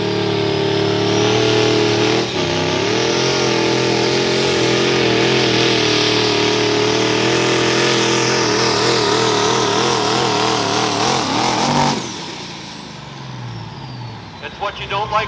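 A truck-pulling rig called the Banana Man, from Jessup, Iowa, roars at sustained loud revs, its engine note wavering as the tires lose grip near the end of the run, then dropping away sharply to quieter idle and crowd noise.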